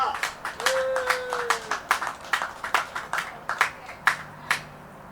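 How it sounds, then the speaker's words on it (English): A modest crowd at an outdoor Second Amendment Flag Day rally applauds a speaker being introduced, with scattered, separate claps in a loose rhythm and faint background murmur. "So please, big round of applause"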